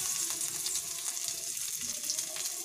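Onions and curry leaves fry in oil in a kadai, giving a faint, steady hiss and soft sizzle throughout the short stretch, heard alone.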